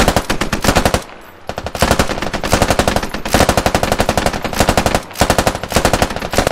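Automatic gunfire in the military shooter game Squad, loud rapid bursts of closely spaced shots with two brief pauses between long strings of fire, with no talk.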